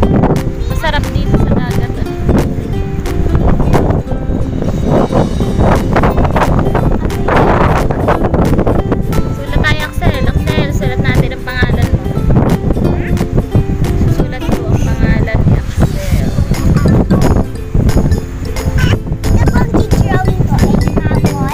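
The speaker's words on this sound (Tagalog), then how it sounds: "Ang lakas ng hangin ngayon" Heavy seaside wind buffets the microphone in loud, continuous gusts, roaring and crackling throughout with no letup.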